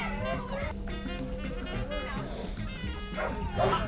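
Several large rescue dogs bark and yip close by in a crowded space during a long drive, with whimpers mixed in and a person speaking among them.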